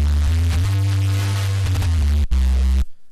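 Synthesizer bass patch built in FL Studio: a loud, deep sustained buzzing tone with a brief gap, then it resumes and cuts off abruptly into silence.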